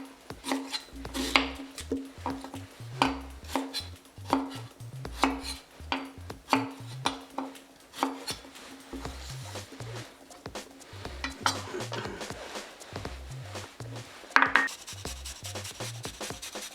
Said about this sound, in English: I'm going to grate some ginger for this broth.